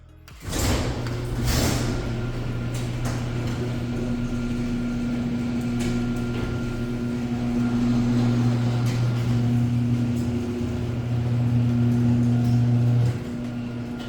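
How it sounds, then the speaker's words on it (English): A residential garage door in a Bellevue home runs open with a steady mechanical motor drone and low rumbling hum lasting over ten seconds, fairly close and even, with no talking. "I featured garage doors that were way louder"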